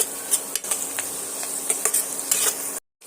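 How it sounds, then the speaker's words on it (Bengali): Cumin seeds and spices frying in hot oil for spicy potato fry, a steady bright sizzle with a spoon scraping and clinking against the pan at intervals, close up, stopping abruptly near the end. "কাঁচা জিরেটা আমি তেলের মধ্যে দিয়ে দিলাম দিয়ে আবারও সুন্দর করে সমস্ত মশলার সঙ্গে এইভাবে ভেজে নিচ্ছি"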